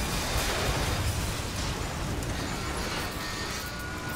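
Rocket blasts in a BioShock Infinite battle against a zeppelin, a dense, continuous roar of explosions and bursts filling the whole stretch, loud and close with no pauses.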